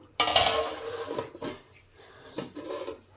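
A lid is set onto a metal cooking pot of curry with a sharp, close clatter, followed by a few softer metallic knocks and scrapes as it settles.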